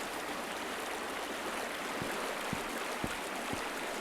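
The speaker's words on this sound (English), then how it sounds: "All the sounds of the water" Flowing water ambience in the game Cornucopias, a steady, close rushing stream with a constant hiss and faint periodic low knocks underneath.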